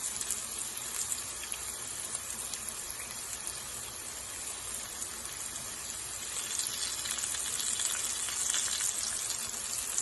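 Potatoes frying in a pan, a steady, dense hiss and crackle of hot oil that holds evenly throughout and swells a little louder toward the end, with no talking over it.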